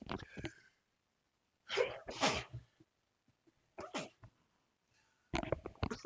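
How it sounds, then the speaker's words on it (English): Repeated sneezes in a sneezing fit, four sharp bursts separated by pauses and quiet breaths, close and loud. "Remi had a sneezing fit."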